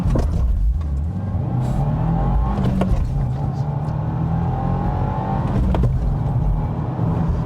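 A 2025 Subaru WRX tS turbo sport sedan launches from a 5,000 rpm clutch dump and bogs, its engine a loud, continuous low roar with a slowly rising whine, close and alone.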